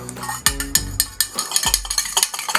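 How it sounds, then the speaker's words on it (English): Keto margarita mix with lime juice is stirred in a container, a spoon clinking and scraping against the sides in quick, irregular knocks, close and crisp. "Stir that together a little bit"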